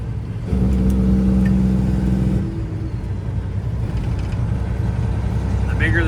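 A large truck engine rumbles steadily while driving along a narrow road, a loud low drone that eases off partway through and then carries on under faint ambient noise.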